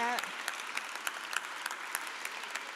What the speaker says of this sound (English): give Kofi a round of applause